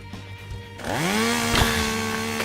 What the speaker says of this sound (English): you just keep that chainsaw away from me, mister